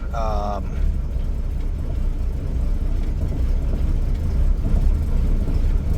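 The engine of a 1961 Ford Falcon delivery wagon runs steadily at idle as a low, even rumble, with a brief higher tone at the start and faint background noise throughout.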